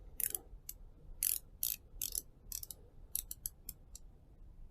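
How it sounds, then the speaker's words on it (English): Bezel of a Boderry Seaturtle dive watch being turned, giving a series of small, close, soft clicks in uneven clusters, some sliding rather than crisp, alone with no talk. "it kind of slides instead of clicking"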